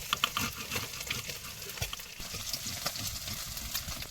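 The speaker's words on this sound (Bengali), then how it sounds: "তেল গরম হয়ে গেছে, এবার কিন্তু জিরে ফোড়ন দিয়ে দিলাম" Cumin seeds crackle and sizzle in hot oil during a night fishing trip in the Sundarbans, a close, busy frying hiss with small pops scattered throughout.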